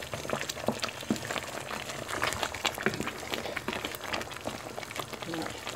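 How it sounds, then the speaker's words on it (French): Bitter ndolé leaves simmering in a pot, a steady dense bubbling and popping that continues throughout, close and moderately loud. "Là, c'est le ndolé amer. Donc, je vais laisser cuire encore."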